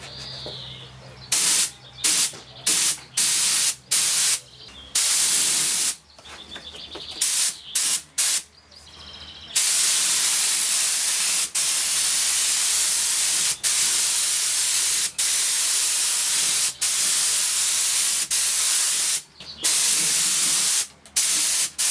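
A paint spray gun coats a Nissan 350Z front bumper in short bursts of hissing spray, followed by a long, steady hiss broken by brief pauses, loud and close, with faint birdsong between bursts.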